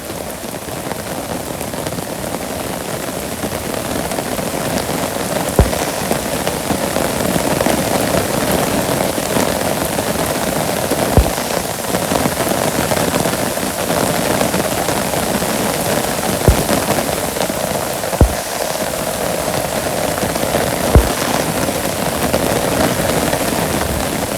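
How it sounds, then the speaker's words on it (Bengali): Steady rain falling in a Bangladeshi village, a dense continuous hiss with occasional louder drips and taps landing on a surface, close and alone without talk. "খুবই সুন্দর বৃষ্টি হইলো।"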